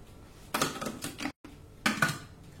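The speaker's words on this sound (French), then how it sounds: "Alors, insérez le couvercle." Lid being fitted onto a Thermomix TM5 mixing bowl while making a crustless quiche: two short clattering bursts of plastic and metal, close and fairly quiet, split by a brief silence.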